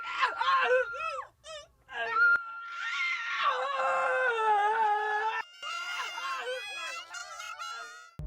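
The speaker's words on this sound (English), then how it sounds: "the screams are disturbing" Disturbing screams from a creepy internet recording: shrill, wailing cries rise and fall in several long, strained bursts, fairly loud and up close, with brief pauses between them.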